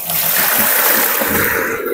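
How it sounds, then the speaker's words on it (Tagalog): Water poured steadily into a basin of clothes for hand washing and rinsing, a loud, close, continuous rushing splash that holds for about two seconds and then eases slightly. "Lagyan nyo ng tubig."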